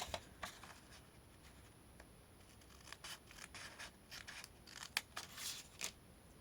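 Scissors snipping through paper, trimming close around a cut-out shape; a quiet series of short, crisp snips in irregular bursts, faint and close, with no talking.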